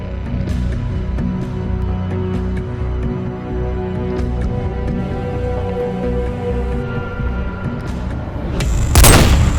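Gunfire and booming explosions from the military video game AND: Geçmişin Bedeli rumble as a dense, continuous battle bed, loud throughout, with a sharper burst of impact near the end.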